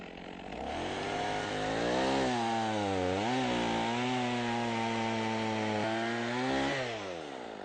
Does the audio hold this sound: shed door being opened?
no